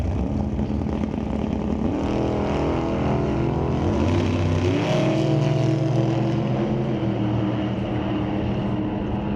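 Drag racing at Mission Raceway Park, a dragster and a 1988 S10 pickup roaring down the strip, a loud continuous engine drone with shifting tones and no talk throughout.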